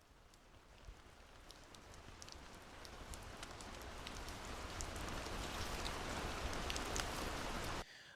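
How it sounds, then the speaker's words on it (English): Gentle rain hisses steadily as a dense patter of fine drops, slowly swelling a little in loudness before cutting off abruptly near the end, with no voices. "let's hit play on this final one, the gentle rain"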